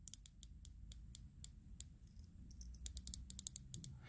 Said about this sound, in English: It does have a bezel that turns very nicely.